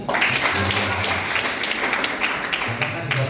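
An audience at a state-defense awareness socialization forum breaks into applause, a rushing wash of claps heard under someone speaking over a microphone.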